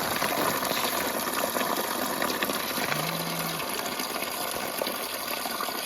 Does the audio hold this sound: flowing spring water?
yes